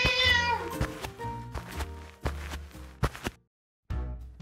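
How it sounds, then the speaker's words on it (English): Cartoon cat meowing on a farm, a bright high meow at the start over busy music and thumps, with a short silent gap near the end. "Look, Tiger, there's a cat and a gorilla in the farm."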